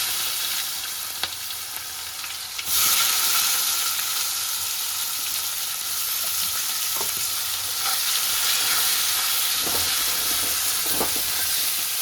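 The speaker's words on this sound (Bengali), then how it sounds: "পেঁয়াজ কুচিটা ভালো করে ভাজা হয়ে গেল।" Chopped onions frying in hot oil with cumin, bay leaf, cloves, cardamom and cinnamon: a steady loud sizzle that jumps louder a few seconds in, with occasional scrapes of stirring and no talking.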